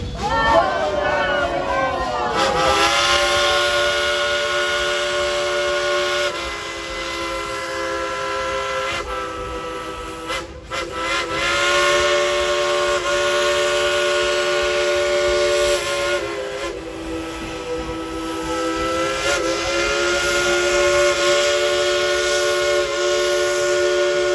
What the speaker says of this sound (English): on the count of three, let's tell her to blow the whistle